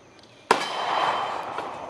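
A single sharp, loud gunshot from a Smith & Wesson Performance Center M&P Shield 9mm pistol cracks out and rings with a lingering echo, preceded by quiet ambience and no speech.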